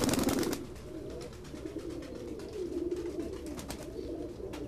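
Pigeons coo in a low, rolling murmur among tumbler pigeons, a soft continuous bubbling call heard after a brief rustle, with faint background clatter and no voices.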